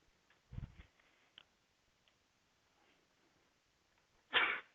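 A person sneezes once in a quiet classroom during a math lecture: a sharp, moderately loud burst near the end, after a few faint clicks and a soft low thump earlier.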